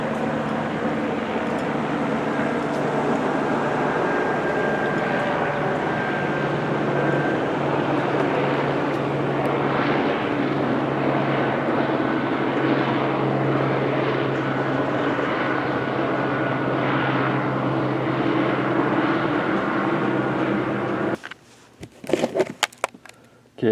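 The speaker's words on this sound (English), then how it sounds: "we got a chopper circling around here on the 3rd November" A helicopter circles overhead, a steady, continuous droning hum with faint rhythmic throbbing that holds for about twenty seconds before stopping abruptly into handling noise.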